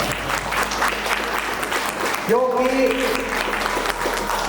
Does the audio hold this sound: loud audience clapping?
yes